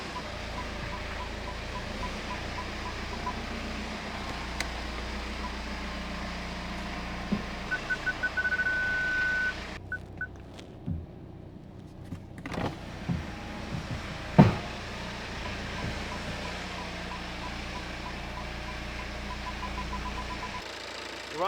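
A BMW 320d diesel engine runs at a steady, smooth idle-like drone as the car reverses, with a few light clicks and knocks over the constant low hum and no voices.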